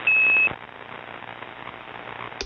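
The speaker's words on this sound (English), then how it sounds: "You can even make it act like a Roger beep." A tube radio's call unit gives one short, clear tone lasting about half a second, used like a Roger beep at the end of a transmission. Steady radio hiss continues after it.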